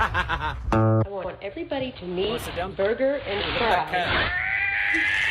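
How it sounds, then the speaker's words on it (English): A cat lets out a drawn-out meow mixed in with people talking and laughing close by. "Look at that cat."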